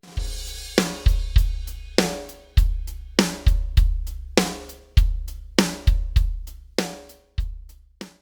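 A drum kit plays a basic 8th-note groove: steady hi-hats, kick drums and a snare backbeat, each hit close and crisp with short decays and no talking.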